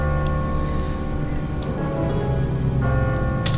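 A church bell in The Walking Dead video game tolls with a sustained, ringing metallic hum over steady loud ambience, its overtones hanging throughout without speech.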